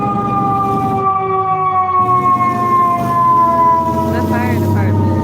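A fire truck siren wails with a long, slowly descending tone that stays loud throughout, with a voice talking underneath and some rumble late in the clip.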